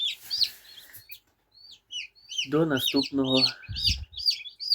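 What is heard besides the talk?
newly hatched chicks peeping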